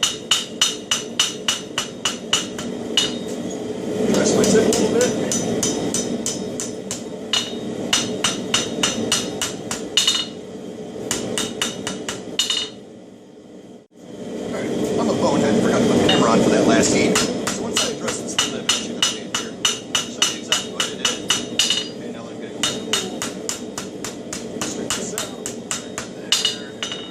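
A blacksmith forging an herb chopper hammers hot steel on an anvil in rapid ringing blows, bursts of strikes broken by short pauses. Someone talks in between and over the hammering.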